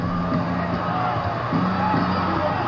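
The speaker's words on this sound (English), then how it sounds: "I think this hometown crowd agrees with you. They are fired up about it." Hometown crowd in a PS4 basketball game, a continuous murmur of cheering and yells rising and falling behind the game's play.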